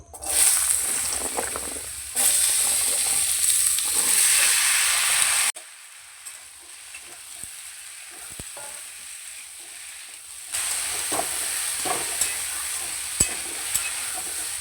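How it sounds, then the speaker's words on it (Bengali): Cut potatoes frying in hot mustard oil in a wok, a continuous loud sizzle with stirring scrapes and clinks, dropping quieter midway before the hiss swells again. "তেল ভালো করে গরম করে নিয়েছি আলুগুলো কেটে রেখেছিলাম প্রথমে আলুগুলো ভেজে নেব"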